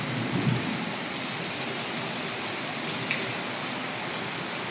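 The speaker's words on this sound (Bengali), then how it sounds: "জোরে জোরে বৃষ্টি পড়ছে" Heavy rain pours down steadily outside a bedroom window, a dense even roar of falling water that stays constant throughout, no one speaking.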